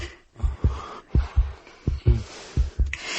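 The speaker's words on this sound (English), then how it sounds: "Just thinking about him now is making her heartbeat quicken." Heartbeat sound effect in a BBC horror radio play, a steady series of close, deep lub-dub thumps pulsing at a moderately quick pace, alone without voices.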